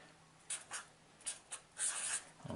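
Marker or pen strokes on a whiteboard while a diagram of filters and envelopes is drawn by hand, heard as several short quiet squeaky scrapes spaced irregularly, with a longer stroke near the end and no talk.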